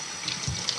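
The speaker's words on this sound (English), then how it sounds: "I am going to rinse now with this cold water." Cold tap water running steadily while hair is rinsed at home on wash day, a close, continuous splashing stream with faint drips, no talking.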